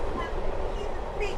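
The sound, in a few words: steam locomotive train running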